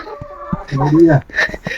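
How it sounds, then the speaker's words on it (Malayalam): Village chickens in a cold, snowy mountain village in Nepal cluck and call at close range in a brief burst, with a voice talking. "ഈ ഗ്രാമത്തിലെ കോഴികളൊക്കെയാണ്"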